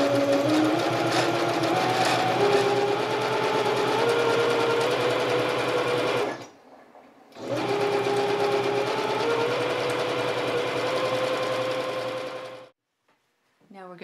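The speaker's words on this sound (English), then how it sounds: "now we're ready to sew the edge down" A sewing machine stitches down the folded double hem along a fabric valance, running steadily and close, pausing briefly partway, then resuming before stopping near the end.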